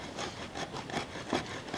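A blade carving fine shavings from wood makes quick, soft scraping strokes, several in close succession, faint and close with nobody speaking.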